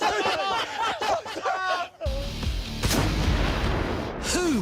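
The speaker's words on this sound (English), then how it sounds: "Who would not want to buy this mortar now?" A restored mortar fires with a sharp, loud boom, followed by a second blast about a second later. Excited voices talk over the outdoor scene before and between the shots.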